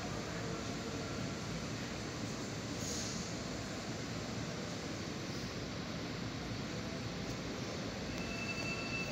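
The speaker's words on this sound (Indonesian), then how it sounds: "kereta dengan nomor G122 akan diberangkatkan ke stasiun Halim dari stasiun Palalarang" High-speed train departing Padalarang station bound for Halim, a steady low rumble and rolling wheel noise that holds at an even moderate level throughout, with no voices.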